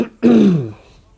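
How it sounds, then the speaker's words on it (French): A man clears his throat once, a short, loud, rasping growl that fades out within about a second, alone without other sound. "je vais me racler la gorge une bonne fois pour toutes parce que c'est vraiment galère"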